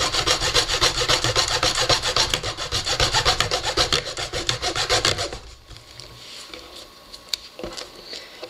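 A small plastic 3x3 slim puzzle cube piece is sawn by hand with its cap removed, the close, rapid rhythmic rasping strokes running steadily for about five seconds before stopping, leaving quiet handling noises.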